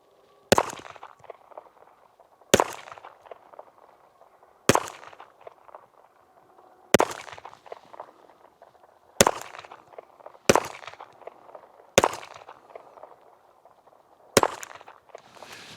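A 1911 pistol fires eight sharp shots at steady one-to-two-second intervals on an outdoor range in 34-degree cold, with targets at 100 yards. Each loud crack is followed by a brief ringing tail.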